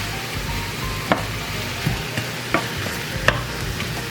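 Sausage and onions cooking in a pan on medium-low heat, a soft steady sizzle with a few sharp utensil clicks and stirring scrapes.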